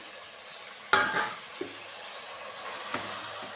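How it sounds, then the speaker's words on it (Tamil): Chopped tomatoes drop into a frying pan for Trichy-style kara kuzhambu, a sharp splash and sizzle followed by a softer hiss and a few utensil clinks and stirs. "அடுத்து தக்காளி போட்டுக்கலாம்"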